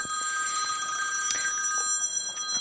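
A mobile phone rings close by with a bright, steady electronic tone that holds throughout, with faint knocks and rustles beneath it.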